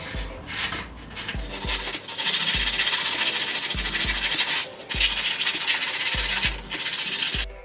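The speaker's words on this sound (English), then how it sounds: "I'm just going to use some sandpaper to try and get all the last little bits of glue and stuff off." Sandpaper scrubbing old glue off a motorcycle handlebar, a series of rough back-and-forth rasping strokes broken by short pauses and soft knocks, close and alone.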